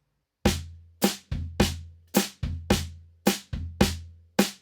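Snare drum quarter notes played over a samba bass drum and hi-hat foot pattern on a drum kit, a steady close groove of sharp snare cracks, low kicks and hat chicks with no talking.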